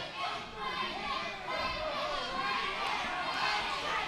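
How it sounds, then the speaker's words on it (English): A wrestling crowd at an NWA Smoky Mountain event chanting "break it" at a wrestler, a dense, roaring mass of voices filling the arena steadily, with shouts and chatter mixed in. "Crowd chanting "break it" at Sigmund"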